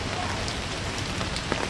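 Rain falls steadily outdoors at a teachers' rally, a dense wash of patter on surfaces, with faint crowd voices mixed underneath.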